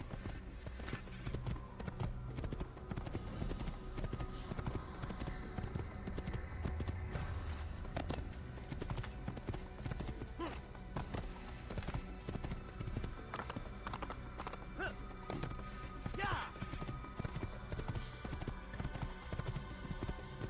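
Rapid clip-clopping horse hooves gallop on and on in an Assassin's Creed video game, beneath a busy wash of background noise, steady and fairly close, with no voices.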